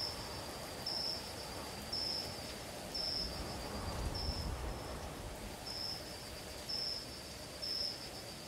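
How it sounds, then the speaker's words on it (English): Grasshoppers chirp loudly and steadily outdoors in a repeating pulsed trill, a continuous high buzzing bed with periodic brighter bursts about once a second, alone without talk. "these grasshoppers are really, really loud"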